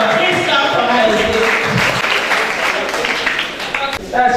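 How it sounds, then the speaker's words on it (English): An audience claps for someone speaker at a motivational talk. The clapping is loud, continuous and close, and a voice briefly rises over it near the end. "please clap for her"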